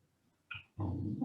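A dog makes a short, faint whine, then a longer, low, throaty growling whimper up close, in otherwise quiet surroundings.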